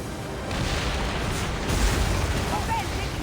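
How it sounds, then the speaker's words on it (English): Rumbling booms and blasts from a naval battle video game with oared galleys ramming, a steady wash of explosive noise swelling mid-way, with voices shouting under the din. "Pompey's taking heavy fire."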